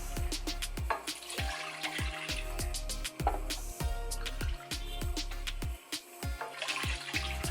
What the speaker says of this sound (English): I'm going to then add 3 cups of water